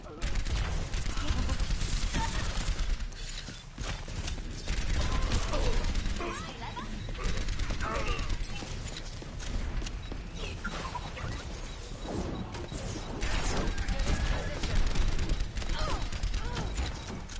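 Gunfire hitting Reinhardt's shield in Overwatch, a busy stretch of repeated shots and clattering impacts that runs throughout, mixed with game effects and voices.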